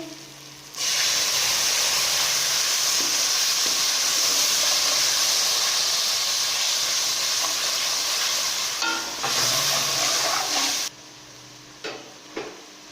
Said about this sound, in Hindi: मिर्च को अब हम अच्छे तरीके फ्राई करेंगे।